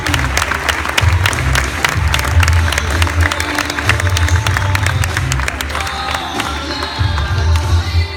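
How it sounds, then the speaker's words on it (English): A loud, sustained round of crowd applause for a Boys & Girls Club Youth of the Year, dense clapping with some cheering mixed in, steady throughout. "Ladies and gentlemen, please give a round of applause to the Moldau Zaffaroni Clubhouse 8th grade Youth of the Year,"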